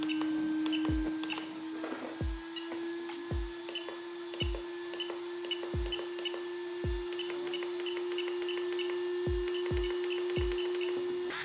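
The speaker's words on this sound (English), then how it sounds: "you can definitely hear the fan speed up and slow down every now and then" The cooling fan on a Rlaarlo Omni Terminator Carbon Edition RC truck whines steadily and drifts gently up and down in speed. Regular soft clicks tick through the hum and no one speaks.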